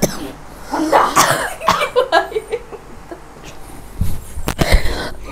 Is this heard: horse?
no